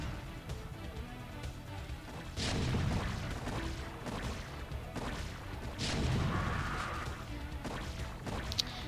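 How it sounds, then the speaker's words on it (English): A siege tank in the StarCraft video game shelling sunken colonies, with repeated heavy booming blasts and crashes over dense game noise, some hits louder and closer than others. "The tank is outside right now and going on with killing the sunken colonies"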